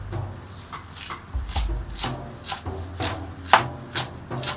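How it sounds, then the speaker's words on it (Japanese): A knife slices green onions into thin rounds on a cutting board, giving a quick, even series of crisp taps and chops close by, about two per second, with no talking. "ネギを小口切りにしておきます。"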